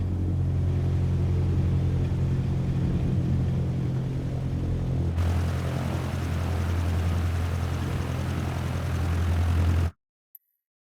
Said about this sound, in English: That was good taxiing.